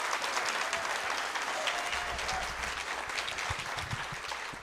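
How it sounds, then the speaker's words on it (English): A literary festival audience applauds warmly, a dense patter of many hands clapping that holds steady and then tapers slightly toward the end. "give a big round of applause for this book"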